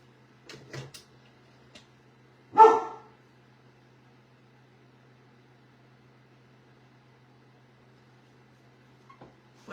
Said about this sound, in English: he loves to bark when he hears any noise outside.